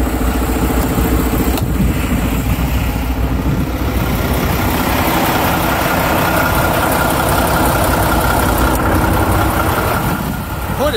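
A Mack Pinnacle truck's engine idles with the hood open, a loud, steady, close diesel rumble that continues throughout.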